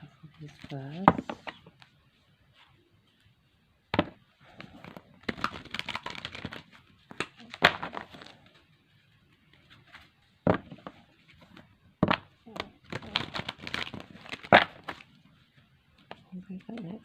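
Tarot cards are shuffled in repeated bursts of crisp riffling and snapping, with quiet pauses between bursts and a few sharp taps.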